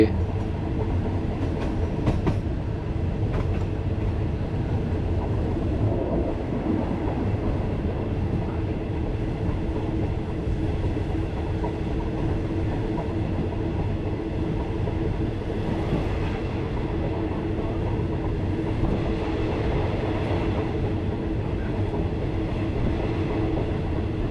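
A train on the southern line double track between Nakhon Pathom and Chet Samian, Thailand, rumbles steadily along the rails, a continuous low roar with faint metallic rattles, fairly close and unbroken throughout.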